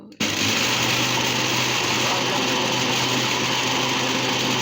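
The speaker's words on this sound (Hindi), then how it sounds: "बहरहाल इसको 5 से 6 मिनट के लिए अच्छा सा ब्लेंड करेंगे।" A faulty blender blending mango ice cream whirs loudly and continuously after starting abruptly, a dense high-pitched motor roar with a brief spoken word under it.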